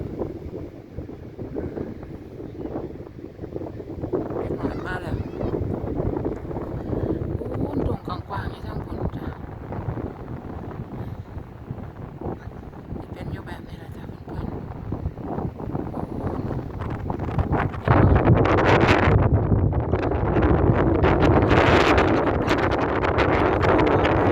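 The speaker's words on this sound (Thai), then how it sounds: "ลมเย็นๆเพียวๆไหมเพื่อนๆ" Cool wind blowing by the sea at night, a constant rushing buffet against the microphone that swells louder near the end, with people talking over it.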